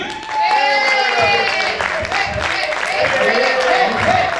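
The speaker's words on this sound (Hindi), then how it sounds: "मैं नाम लेना चाहूंगा आपकी जोरदार तालियों के साथ, कोच टीके रोबी" Audience applause and cheering welcome coach T.K. Ruby at a marathon-day speaking event, a loud continuous wash of clapping with shouts and whistles mixed in, and voices talking over it.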